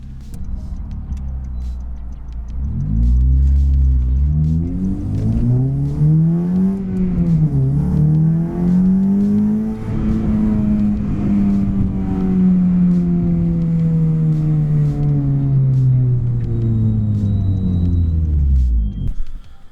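A 9th gen Honda Civic Si with a full race downpipe, heard close and loud as it drives. The engine holds a steady drone, climbs and dips through revs, then winds down near the end.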